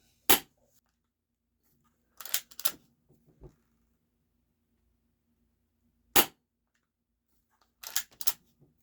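Game Face GFM311 plastic spring airsoft pistol firing in a quiet room, sharp single snaps spaced several seconds apart, each followed by shorter clicks of the slide being racked.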